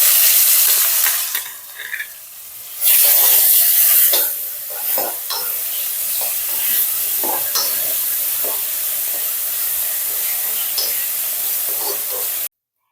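Green chillies, ginger, garlic, coriander and curry leaves fry in a hot pan with a loud, continuous sizzle. The sound dips briefly, then returns at full strength, and scattered stirring scrapes run through it until it stops abruptly.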